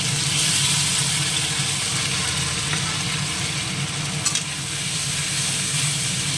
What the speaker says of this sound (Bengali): লাল লাল করে ভেজে নেব মশলাটা